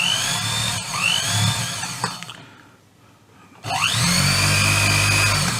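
A small coil winder whirs at high speed with a steady rising motor whine, pauses briefly to near silence, then spins up again loudly and close.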